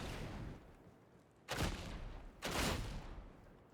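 Two heavy, broadband blasts of hip-fired fire breath rounds from a weapon in Warhammer 40K: Darktide, each a loud burst with a lingering roar, spaced about a second apart over low background noise.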